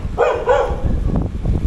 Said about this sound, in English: There's a big dog out now as well.